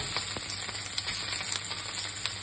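Pre-cooked, still-warm potatoes sauté in pork fat, a close steady sizzle broken by light ticks and pops of stirring, no speech.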